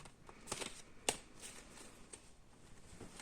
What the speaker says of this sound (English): I'm just going to continue to shuffle 1 second